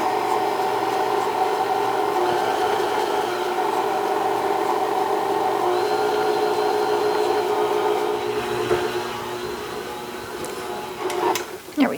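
An electric mixer whirs steadily as it blends peanut butter with powdered sugar, a close, even motor hum that slows and winds down near the end with a few faint clinks.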